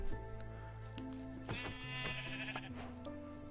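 Sheep bleat in Minecraft, two or three wavering calls rising clearly over soft ambient game music, fairly close and alone.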